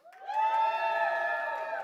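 A church congregation lets out one drawn-out vocal cheer of support for the LA Rams at a worship service, a sustained crowd "woo" rising quickly and holding at moderate volume.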